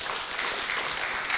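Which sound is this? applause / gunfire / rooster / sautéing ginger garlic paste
applause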